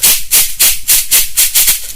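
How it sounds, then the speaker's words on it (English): Cabasa, a beaded hand percussion instrument, played in a steady rhythm of about eight crisp, bright rattling shakes over two seconds, close and fairly loud with no voices. "This is the cabeza."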